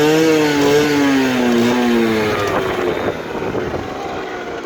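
A Rieju RS3 motorcycle's engine and exhaust drone loudly and steadily while riding, the pitch rising then easing slightly, with wind rush layered over it throughout.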